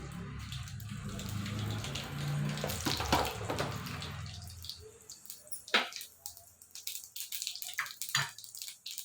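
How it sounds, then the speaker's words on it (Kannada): Mustard seeds splutter in hot oil in a pan while puliyogare is being made. A steady hiss gives way to scattered, sharp crackling pops, close and fairly loud. "ಈಗ ಎಣ್ಣೆ ಕಾದಿದೆ ಫ್ರೆಂಡ್ಸ್ ನಾನು ಇದಕ್ಕೆ ಸಾಸಿವೆ ಹಾಕ್ಕೊತಾ ಇದ್ದೀನಿ"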